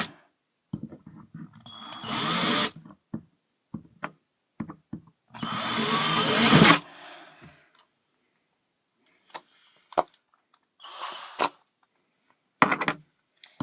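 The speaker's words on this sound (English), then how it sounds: "Gotta seat this drill bit." A power drill bores into an aluminum can for a penny stove in a few short, separate bursts, close and fairly loud, with small ticks and taps between them.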